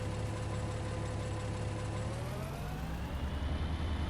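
A tractor engine in Farming Simulator 19 turning over and settling into a steady idle, a continuous low mechanical drone with a rising whine partway through.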